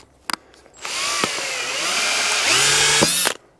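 Power drill driving a screw through a roof slate during a stone barn renovation: a few short clicks, then one sustained, loud whirring run of about two and a half seconds whose pitch drops near the end before it stops.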